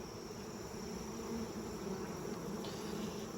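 Bees hum in a continuous, even drone around mating nucs, close and steady with no pauses, and a faint high insect whine sits above the buzz.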